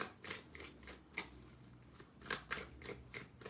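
Quiet riffling and soft snaps of a deck of cards being shuffled, several quick bursts at an uneven pace, close by.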